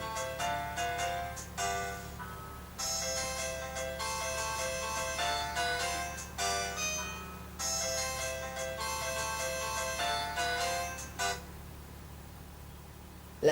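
A ringtone plays a repeating electronic melody of bright bursts, moderately loud and steady, stopping briefly between phrases, with no talking.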